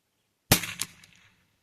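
A single sharp gunshot from an Anschutz 64 rifle fired outdoors, a crisp crack followed by a quick echo and short decay, with no talking.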